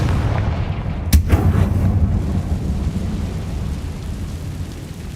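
A Confringo blasting spell from Hogwarts Legacy fires with a single sharp, loud crack that rolls into a deep, rumbling boom, fading into a low sustained roar with no talking.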